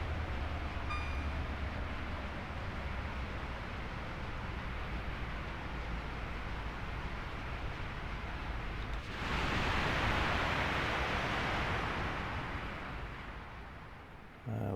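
Train in Train Sim World 4 running over a viaduct on the Brighton to London line, a steady rushing rail roar that swells brighter and louder partway through, then fades slightly near the end.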